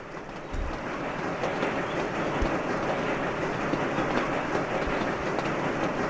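Trains roll along rails in the video game Sweet Transit, a steady clickety-clack rumble of wheels on track continuing throughout at moderate volume, with faint intermittent clunks.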